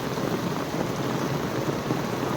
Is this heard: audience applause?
no